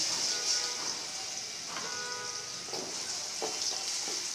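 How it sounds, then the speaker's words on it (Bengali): Steady crackling sizzle of spices and onion frying in hot oil, with a few soft clinks of a utensil stirring the pan. "এই যে আমি তেলে দিয়া দিলাম।"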